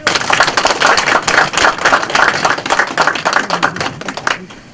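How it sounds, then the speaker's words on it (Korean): Loud, dense applause fills a graduation ceremony at the Gwangju General Assembly Theological Seminary, many hands clapping rapidly and close at hand in a sustained burst that tapers off at the end, with no talking over it. "박수 좀 세게 쳐주세요."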